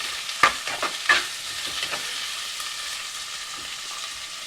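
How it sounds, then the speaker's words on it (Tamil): Small onions being sautéed in a pan, with a few sharp spatula scrapes near the start over a steady, soft sizzle that continues throughout. "இந்த சின்ன வெங்காயத்தை போட்டு நாங்கள் வதக்கி எடுப்போமா"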